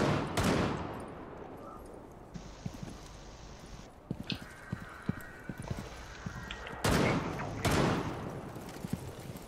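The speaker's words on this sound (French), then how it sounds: "Il y a des grenades partout là." In Rainbow Six Siege, grenade blasts and gunfire ring out. Two heavy booming explosions bracket a stretch of sharp, scattered shots and clatter, with quieter ambient rumble between them.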